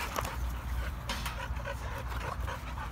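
Boxer dog whimpering and yipping indoors, short high whines repeating over a steady background of rustling and movement, close and fairly soft.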